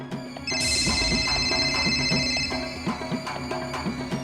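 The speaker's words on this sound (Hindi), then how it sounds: "वो फोन उठाइए" Telephone ringing indoors, a bright electronic tone sequence that starts half a second in and repeats in a steady pattern over a low background.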